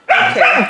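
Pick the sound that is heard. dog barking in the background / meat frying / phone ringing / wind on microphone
dog barking in the background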